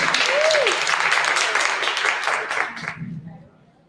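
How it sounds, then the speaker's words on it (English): An audience at a women's conference breaks into sustained applause, a dense wash of clapping that holds steady for about three seconds before fading out. "let's give him a hand of applause"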